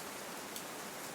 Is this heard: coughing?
no